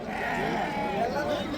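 Sheep bleat amid the steady crowd din of the Thursday morning sheep and goat market in Haveri, Karnataka, with people talking all around and the calls blending into continuous background noise.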